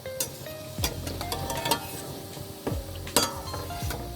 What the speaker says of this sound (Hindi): इनको ऐसी मीडियम आंच पे फ्राई करना है ताकि ये अंदर तक सिक जाए